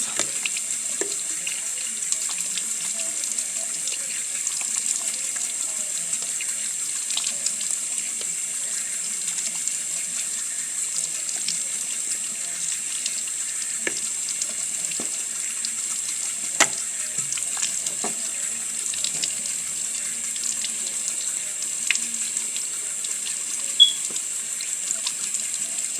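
Tap water runs steadily into a sink as a face is rinsed, a continuous hiss broken by occasional small splashes and taps, with no talking.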